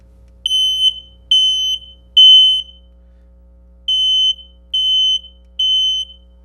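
A shrill smoke alarm beeps in two sets of three sharp, evenly spaced tones, separated by a brief pause, loud and close.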